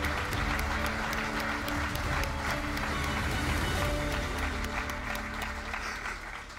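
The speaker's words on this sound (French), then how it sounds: "je vous prie d'applaudir comme il se doit Cyril ce soir" An audience applauds steadily at a regional sports awards evening, dense clapping filling the room under faint music, sustained for several seconds without a break.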